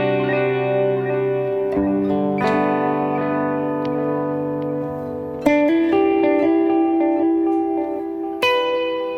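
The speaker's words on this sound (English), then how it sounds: "A high decay, low mix setting for reverb will get you into the ballpark of the modern reverb sound for praise and worship." Guitar played through a Line 6 Helix set to high-decay, low-mix reverb, sustained chords and notes that change several times, each with a soft lingering wash of ambience, loud and alone.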